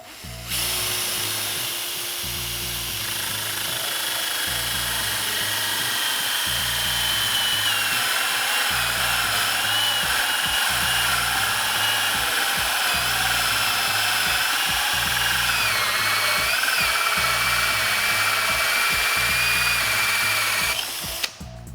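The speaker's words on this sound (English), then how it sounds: "let the weight of the drill drop through the table instead of pushing it through" A power drill whines steadily for about twenty seconds, boring a grommet hole through a wooden desk top with a high sustained buzz and slight pitch shifts, close and loud.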